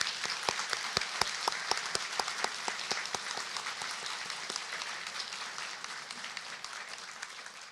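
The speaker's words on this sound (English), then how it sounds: "Students, can you please join me in giving the Arcadia faculty a round of applause?" Audience applauding university faculty at an honors convocation, steady clapping from many hands that swells early with sharp individual claps, then settles into a dense, even patter for several seconds.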